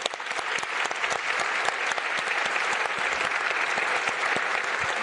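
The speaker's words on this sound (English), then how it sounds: "a round of applause for our panelists" Dense, continuous applause from a summit audience thanking a panel, loud and even from start to finish with a few voices buried in it.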